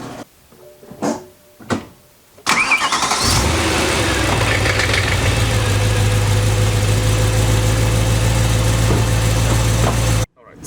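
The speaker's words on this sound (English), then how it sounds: "So now I'm going to go inside the car, start it up, get it back on flat ground" A BMW E9X M3 engine is started after a few muffled thumps from inside the car, catching with a burst and then settling into a loud, steady idle while warming up, before cutting off abruptly.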